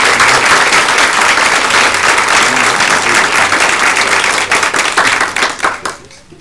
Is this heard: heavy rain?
no